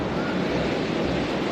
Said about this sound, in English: The Atlantic Ocean and the Atlantic coast at Wrightsville Beach, North Carolina.